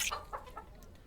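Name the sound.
chicken clucking in Castles of Burgundy digital video game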